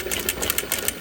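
A sewing machine runs a short burst of stitching along a blouse neckline edged with bias tape, with rapid, even needle clatter close to the microphone and no voices.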